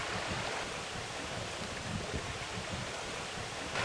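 A river flows at a sampling spot, a steady broadband rush of water, continuous and even with no distinct splashes. Wind may mix in. There are no voices.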